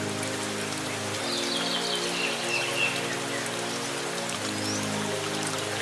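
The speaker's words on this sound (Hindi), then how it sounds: "ये बारिश तो रुकने का नाम ही नहीं ले रही" Steady rain pours down in a cartoon scene with a poor vegetable seller sheltering under a tree, a dense continuous hiss of drops on surfaces filling the clip, with no voices.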